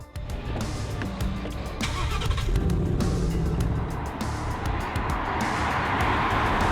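A 2016 Ford Mustang with a 2.3-litre turbocharged four-cylinder EcoBoost engine drives on the road. The engine note swells and builds as it accelerates, loud and close, with a steady broadband rush beneath it.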